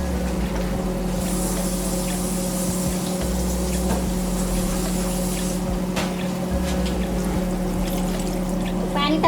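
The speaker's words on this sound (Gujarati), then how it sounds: "તો હવે એમાં પાણી નાખીશું." Water pours steadily into a pan of potato curry whose oil has separated, a continuous trickle over a constant low hum that swells and fades, with a voice speaking over it.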